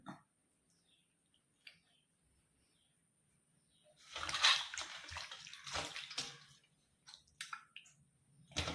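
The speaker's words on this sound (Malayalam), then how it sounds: "ഞാനൊരു പാത്രത്തിൽ ഇത്തിരി വെള്ളം വെച്ചിട്ടുണ്ട്" A hand swishes and sloshes through a small bowl of water, starting after a quiet stretch with a few faint clicks and then splashing in irregular bursts, close and soft.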